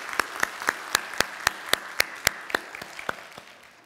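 A church congregation applauds a missionary during a Sunday worship service, a sparse run of about a dozen sharp, evenly spaced claps that sound fairly distant and thin out toward the end.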